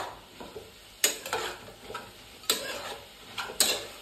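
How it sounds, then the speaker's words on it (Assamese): Homemade spice mix frying in a home kitchen pan, with soft sizzling under a few sharp spatula clinks and scrapes at irregular intervals, close and fairly quiet. "ধুনীয়াকে ভাজি দিছো"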